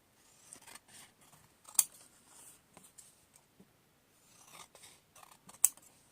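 Scissors snip paper pieces for ephemera at close range, with quiet handling between the cuts and a few loud, crisp snips, two of them especially sharp.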